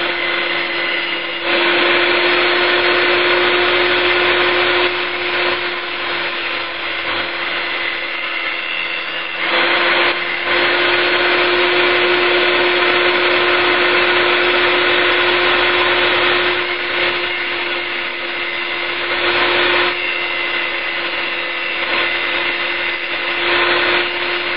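Multi tool saw cutting steadily, a loud, close, continuous high whine with a sharp sustained tone, briefly easing and resuming a few times as the cut continues.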